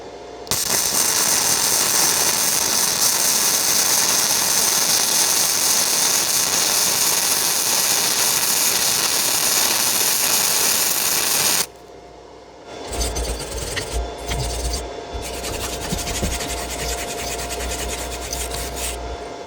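A Vevor MIG 130 welder set to its maximum setting lays a bead with a loud, steady crackling sizzle for about eleven seconds, then stops, leaving a low hum and faint handling noises.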